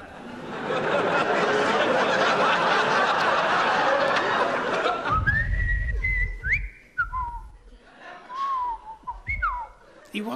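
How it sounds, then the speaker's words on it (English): Someone whistles a wavering tune after a burst of loud noise, with light laughter and chuckling mixed in around the whistled notes. "I will now whistle the soliloquy from Hamlet."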